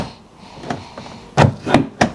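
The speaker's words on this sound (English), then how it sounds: "This door doesn't want to open," A BMW E38 750il car door that won't open is tugged and knocked: a faint thunk, then three sharp, close clunks in quick succession as the handle is worked.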